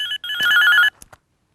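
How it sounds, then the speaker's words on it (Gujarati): A telephone ringtone sounds in a bright electronic burst, breaks briefly, rings again, then cuts off, followed by a couple of faint clicks before silence. "આ તો મારો ને મારો વાગે છે. સવારના કોણ ફોન કરે છે?"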